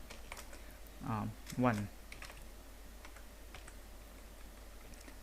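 Light clicks of a computer keyboard while a printf statement is typed in a C switch-statement program, scattered faint keystrokes under a brief spoken word and quiet room tone.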